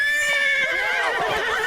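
A horse neighs loudly and close, one long quavering whinny that wavers and breaks toward its end, with no talk over it.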